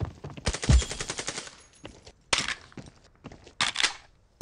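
Machine gun fire in the battle royale game Scarfall, heard as rapid bursts of shots in several separate volleys with short quiet gaps between them.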